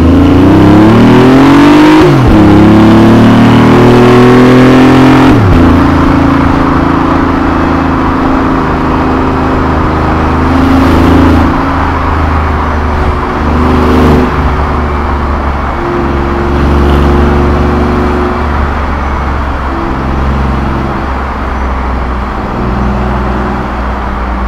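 A 2017 BMW i8 hybrid coupe in sport mode accelerates hard, its engine loud and close with rising revs, abrupt drops at gear changes around two and five seconds, then a sustained strong drone with smaller shifts, and no talk.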